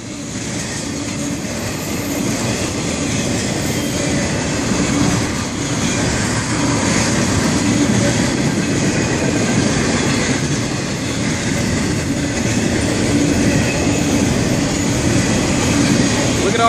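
A Florida East Coast Railway freight train with aggregate rock cars rumbles steadily past nearby, a continuous loud roar of wheels and rail noise throughout.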